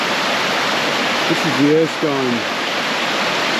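Water of the Erskine River Cascades rushes in a loud, constant roar along a bush walking track, with someone speaking briefly over the steady noise.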